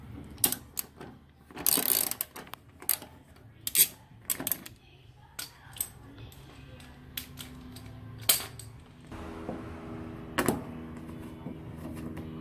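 Ratchet wrench with a 12mm socket undoing bolts threaded into the base of a 36-inch six-drawer steel tool chest, giving irregular bursts of close clicking and metallic clatter, with quieter handling between them.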